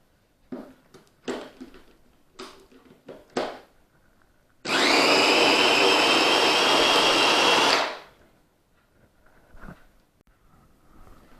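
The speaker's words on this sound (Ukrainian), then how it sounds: "Тепер сливи перебиваємо блендером." A loud blender whirs steadily for about three seconds, puréeing plums, bracketed by scattered clatter and knocks of kitchen work before and after.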